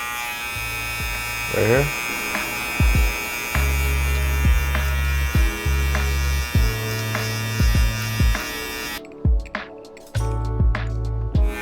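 Electric hair clippers fitted with a 3/4 guard buzz steadily through hair in repeated short passes with brief pauses, a close, continuous hum that stops and restarts, with a voice speaking briefly over it.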